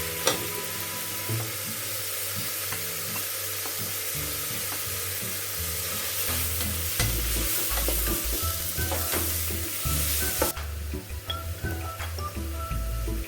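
Ginger and garlic frying with reddened onions in a pan for a fish-head curry with mung dal, giving a steady close sizzle with stirring scrapes throughout and no talk.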